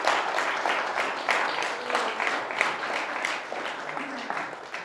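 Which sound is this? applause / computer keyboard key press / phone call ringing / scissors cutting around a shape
applause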